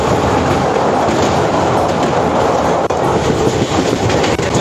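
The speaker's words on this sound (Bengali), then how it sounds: "এখান থেকে আমরা এই মুহূর্তে আমাদের ট্রেন ঢুকছে বোলপুর" The 12363 Haldibari Intercity Express runs on the rails as it enters Bolpur, a loud, continuous rumble of wheels and carriages with faint rhythmic clicks from the track throughout.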